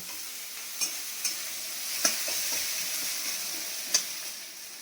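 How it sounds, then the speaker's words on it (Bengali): Spice tempering sizzles in hot oil in a pan for fish curry, a steady bright hiss with a few sharp crackles and pops scattered through. "এই যে আমার ফোড়নটা হয়ে গেল"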